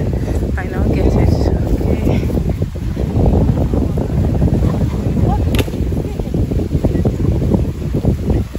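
Steady rushing of a boat moving over water in Abidjan, Ivory Coast, with wind buffeting the microphone, while people talk over the engine and spray noise.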